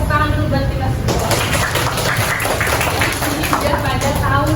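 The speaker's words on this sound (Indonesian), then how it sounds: "Oke, hebat, tepuk tangan dulu buat kita semua." A classroom of students claps hands together in a dense, steady burst of applause lasting several seconds, fairly loud and close.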